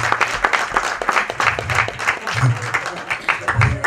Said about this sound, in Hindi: मुकुल देव जी के लिए जोरदार तालियां हो जाए